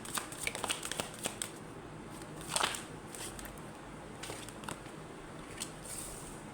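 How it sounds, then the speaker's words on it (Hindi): Tarot cards shuffled and handled, giving soft papery riffles and light flicks with a sharper snap partway through, quiet and close with no talking. "पहले सारे कार्ड्स निकाल लूँगी"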